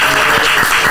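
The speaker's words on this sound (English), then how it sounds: "You give a round of applause," A brief, loud burst of audience applause, dense clapping lasting only about a second.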